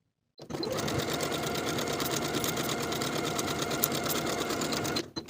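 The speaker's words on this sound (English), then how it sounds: "Sew straight across the top edge with a 3/8 inch seam allowance" Sewing machine stitching a denim jacket yoke seam straight across with a 3/8 inch allowance, starting after a brief silence, running in a fast steady whir, then stopping near the end.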